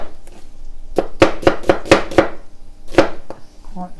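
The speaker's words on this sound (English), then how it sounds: "Just going to get an onion, and just thin slices like that, long slices" A knife cutting an onion into thin long slices on a board, a quick run of about six crisp chops followed by a lone chop a moment later, loud and close, no voices.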